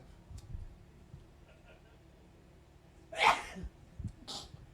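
One sharp, close sneeze bursts out partway through a quiet indoor conversation, with soft voices and breathing before and after it.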